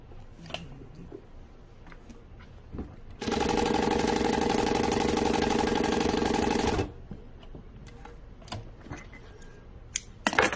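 Industrial walking foot sewing machine stitching in one continuous loud, even run of about four seconds, framed by quieter clicks and handling noises before and after.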